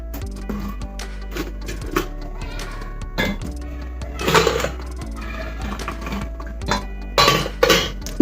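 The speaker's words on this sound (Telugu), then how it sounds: "ఇప్పుడు మనం ఉడకపెట్టుకున్న ఈ కాలీఫ్లవర్ని ఇందులో వేసేసుకోవాలి" Boiled cauliflower florets go into a bowl of gobi 65 batter, giving scattered clinks and scrapes of a utensil against the bowl, with a couple of louder clattering bursts near the middle and end over a quiet low background hum.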